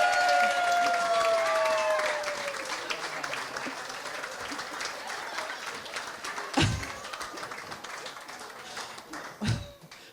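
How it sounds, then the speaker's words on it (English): Wedding guests applaud at a reception, sustained crowd clapping with some cheering, a few sharp thumps, and a fading whistle-like tone at the start. "Round of applause."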